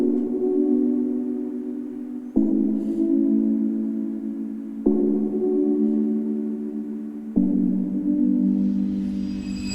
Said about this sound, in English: I layered on another synth key from that same one-shot kit